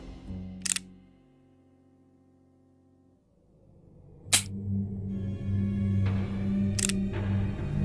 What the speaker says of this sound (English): I'm gonna add an extra bullet to the chamber.